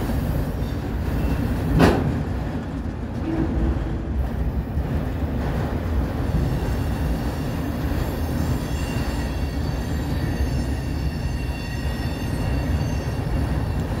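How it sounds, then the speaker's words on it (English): Freight train rolling past at Hobson Yard in Lincoln, Nebraska, a steady loud rumble of railcars with wheel squeal and a brief sharp bang early on, no talking. "This train is on the St. Joe sub heading south."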